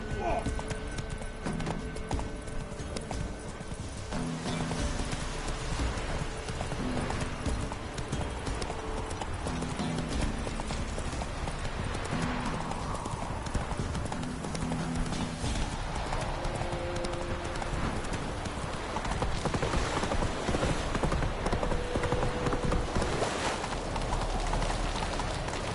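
Roach, a horse in The Witcher 3, galloping with rapid continuous hoofbeats and a neigh, loud and close under game music and occasional speech.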